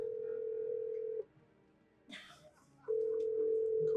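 On a disconnected telephone line, a steady dial tone hums loudly, cuts out for over a second while a brief rustle and faint voice pass, then resumes just as strong.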